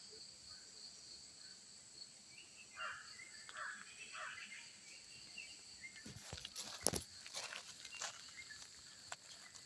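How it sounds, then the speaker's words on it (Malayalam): Crows caw in scattered bursts around a home yard in the morning, calling at moderate distance over a steady insect-like background hum, with louder, busier sounds near the end. "രാവിലെ കാക്കകളുടെ എല്ലാം ഭയങ്കര ബഹളമാണ്"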